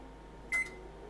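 A kitchen oven's control panel gives a single short electronic beep while being set to preheat, clear against a quiet room.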